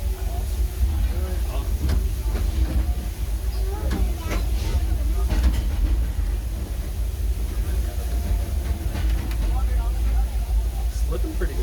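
The Disneyland Railroad steam train rolls along with a steady low rumble and rattling clanks of the cars, heard from on board with people talking over the ride noise.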